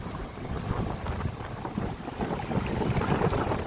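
Rough, churning sea near a tidal river mouth where young men are fishing, a steady broadband roar of waves and wind buffeting the microphone throughout, with no talk.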